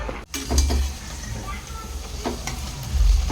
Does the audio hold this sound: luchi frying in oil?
yes